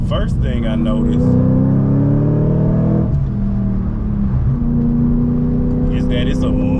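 A supercharged Audi B8.5 RS5 with a JHM exhaust accelerates hard. A deep, loud engine note rises in pitch, eases briefly, then climbs again, heard from close to the car with brief wind buffeting.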